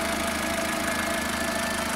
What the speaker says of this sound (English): And there's the engine all running.